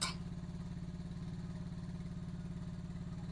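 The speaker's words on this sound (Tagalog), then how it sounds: "Yung starter natin gumagana pa." A starter motor cranks an engine on a weakening battery, producing a steady, even train of rhythmic pulses close by for the full few seconds with no voices.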